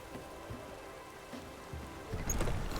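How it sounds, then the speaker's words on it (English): Rain falling in The Witcher 3, a soft, faint, steady patter that grows a little heavier toward the end. "Looks like rain."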